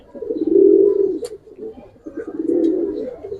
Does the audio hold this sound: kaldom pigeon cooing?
yes